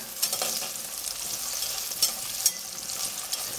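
Onion and garlic fry in a pan for rice, giving a steady close sizzle with scraping stirs and a few sharp clicks.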